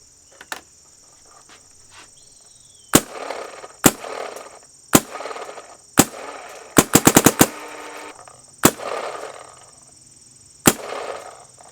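A paintball marker from a comparison of the Luxe X, Syx, DSR and 170R fires a string of sharp, loud shots, mostly single pops spaced a second or so apart, with one rapid burst of several shots in the middle.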